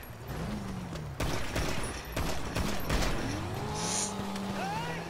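Gunfire and car sounds from the Grand Theft Auto V video game: a steady roar of engines and skidding tires with sharp broadband bursts of shots, loud and busy throughout.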